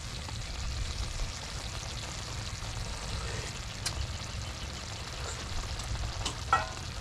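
Fiddlehead fern sautéed with chili in a pan gives a quiet, steady sizzle with soft crackles and a few light clinks near the end, with no one speaking.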